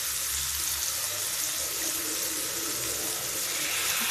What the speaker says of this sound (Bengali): একটু সামান্য পানি দিয়ে দিলাম